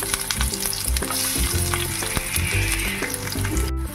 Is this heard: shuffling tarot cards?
no